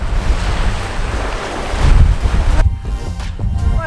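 Cold wind buffets the microphone by the sea in northern Scotland, a loud, continuous roar over a low surf rumble that drops away briefly near the end.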